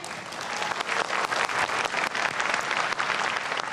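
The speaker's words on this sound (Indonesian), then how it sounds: "Boleh tepuk tangannya?" Audience supporters clap at the fifth 2019 Indonesian presidential and vice-presidential debate, with dense, sustained applause from a large crowd filling the hall at a steady, lively level.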